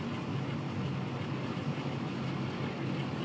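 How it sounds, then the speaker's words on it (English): A nuclear-train locomotive engine idles in Train Sim World 6, producing a steady, low, continuous rumble at moderate distance with no talk over it. "Switch the engine to on, but still idling."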